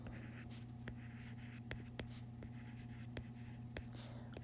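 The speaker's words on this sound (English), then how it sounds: "let's go ahead and write mean," A pen writes a page title in quick, faint strokes close to the microphone, a light scratching with small ticks over a steady low hum.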